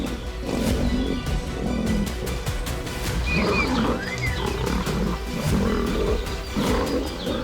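A young lion in the wild growls and roars during a fight, with rough, throaty bursts repeating loudly and close over a continuous rumbling background and faint bird calls.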